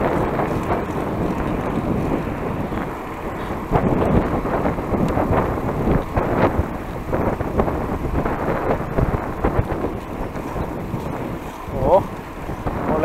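Strong headwind buffeting the microphone while cycling along a rural bike trail, a continuous heavy rumble of wind with gusty surges throughout.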